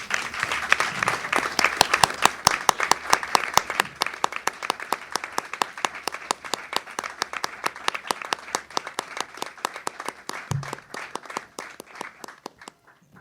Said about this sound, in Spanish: Si les pido un aplauso, por favor